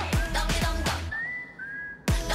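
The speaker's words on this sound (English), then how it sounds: "Oh, I love that pause and that whistle." A bright, sliding whistle melody from a song rises and holds over a sparse beat, moving through a few long notes during a pause in the music before the rhythm kicks back in.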